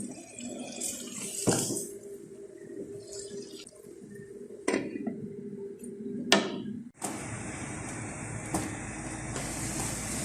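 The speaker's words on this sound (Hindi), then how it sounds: "आधा कप पानी डालकर ढककर पकने के लिए लो फ्लेम पर रखें।" Water splashes and trickles into a pan of mutton mince and beans cooking in ghee, with a few sharp clinks of metal cookware, then a steadier rush of pouring toward the end.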